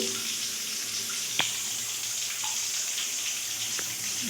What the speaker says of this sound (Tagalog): Yan mga tulo, oh, barado.